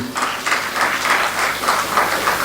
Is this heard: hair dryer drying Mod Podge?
no